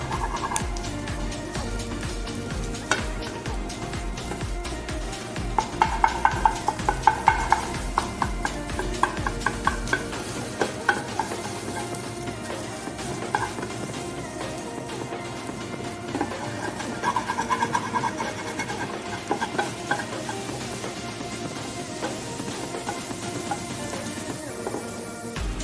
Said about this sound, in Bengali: ঢেলে দেওয়ার পর 1 সেকেন্ড ওয়েট করে এটাকে কন্টিনিউ নেড়ে যেতে হবে ডিম ভুজিয়া তৈরি করার জন্য